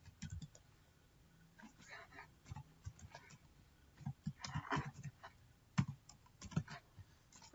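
A command is typed on a computer keyboard: quiet, irregular keystroke clicks tapping along for several seconds, close and soft, with a few slightly louder presses.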